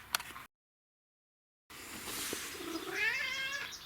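A hungry pet cat meowing at feeding time, drawn-out close meows after a brief gap of silence, heard alone without talking.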